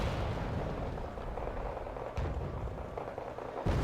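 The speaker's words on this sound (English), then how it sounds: "they're taking mortar fire" Mortar fire during a video game strategy match, a low rumble of distant muffled thuds and booms, fairly faint and continuous, with a sharper impact near the end.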